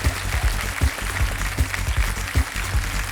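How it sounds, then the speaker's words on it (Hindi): A studio audience on a televised quiz-show set applauds to welcome contestants, a steady wash of clapping with periodic stronger swells and no talk over it. "जोरदार तालियों के साथ मैं चाहता हूं कि इनका स्वागत किया जाए।"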